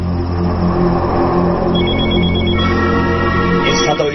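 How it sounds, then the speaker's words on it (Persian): A telephone rings with a bright, repeating electronic tone that grows clearer partway through, over a steady engine-like hum in a drama scene. "این صدای تلفن از کجا؟"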